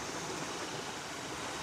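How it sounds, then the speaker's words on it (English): A fast-flowing torrent in the New Guinea rainforest makes a steady, dense rushing roar, continuous and fairly close, with no voices. "they love breeding in fast-flowing water like this"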